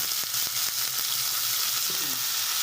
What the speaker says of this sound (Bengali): এই যে আমার এখানে পেঁয়াজ কুচি ভাজা হয়ে গিয়েছে।